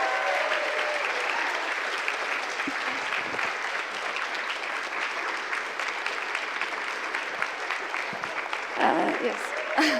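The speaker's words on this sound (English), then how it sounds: "give a really, really big round of applause for Monika" Sustained applause from an audience at a Sunday event for Monika, with dense, steady clapping throughout and a short voice rising near the end.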